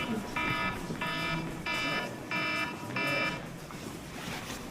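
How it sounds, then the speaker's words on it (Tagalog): A cellphone alarm beeps in five evenly spaced bright bursts, moderately loud over a low background murmur. "Biglang nag-alarm yung cellphone."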